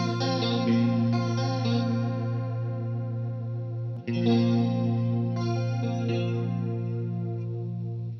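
Electric guitar through an ensemble chorus pedal, its tone shimmering and gently doubled. Strummed chords ring steadily over a held low note, with a brief break and restrike midway. Close and clear, with no talking.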